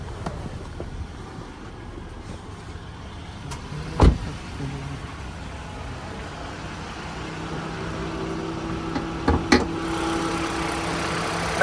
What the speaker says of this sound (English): Obviously make sure the engine's running fine as well.